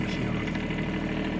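A Bobcat 418 skid steer engine idles close by, a steady low throbbing drone with no throttle change over the short stretch.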